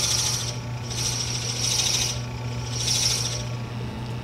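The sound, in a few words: boring wood with Forstner bit on lathe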